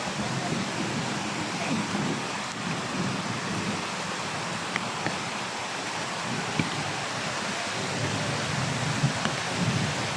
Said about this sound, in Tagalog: Kita nyo, sobrang lakas ng ulan mga tol